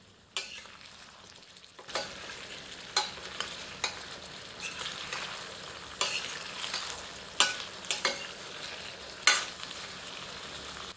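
A ladle stirs potato and eggplant curry in a pot, making repeated sharp scrapes and knocks against the metal at irregular intervals over a low, constant sizzle, close and clear, with no voices.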